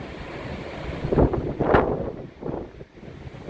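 Storm wind and waves at Semaphore jetty in South Australia: gusty wind buffets the microphone while waves surge and crash in loud swells, with quieter stretches between them.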